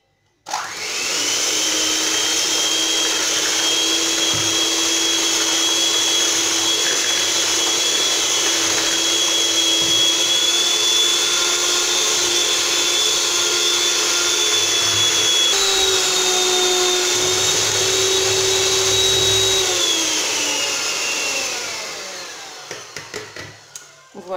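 Electric mixer whipping eggs and caster sugar for a pineapple sponge cake batter, a steady loud whirring motor that runs unbroken for about twenty seconds, shifts pitch slightly midway, then winds down.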